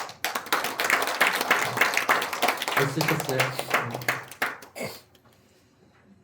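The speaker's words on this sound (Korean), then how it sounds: "우리 박수로 축하한다고" A church congregation claps continuously for several seconds during a service, the applause fading out toward the end, with a voice briefly speaking over it.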